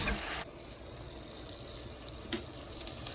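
Water is poured into a pan of frying turkey neck for Jamaican curry: a loud, brief hissing rush at the start, then a low, quiet simmer with a small spatter later.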